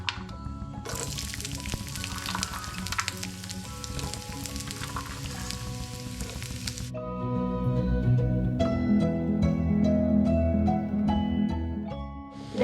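Coconut pieces fry in hot oil for a chicken dish wrapped in banana leaf with bird's eye chili and pepper: a steady bright sizzle that drops away midway, then deeper bubbling and crackling with a tonal hum beneath.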